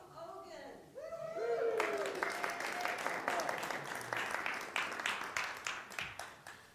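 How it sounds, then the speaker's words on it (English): An audience breaks into applause at a Saturday talk on prosperity, a dense wash of many hands clapping that holds steady for several seconds, then thins to scattered, louder individual claps as it fades. "Thank you for your applause."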